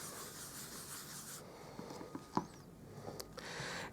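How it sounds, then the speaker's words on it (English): Quiet scraping of an embossing buddy pad rubbed over a small paper cloud cutout, a soft continuous brushing with a few light taps, close and without talk. "I'm going to rub my embossing buddy over the top of that"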